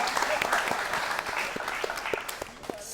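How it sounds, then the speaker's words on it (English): An audience claps for guests on a youth talk show, a steady, dense round of applause filling the room for about three seconds with scattered sharper claps standing out near the end. "could you all applaud them, please?"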